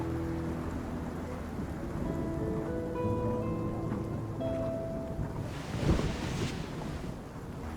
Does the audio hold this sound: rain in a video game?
yes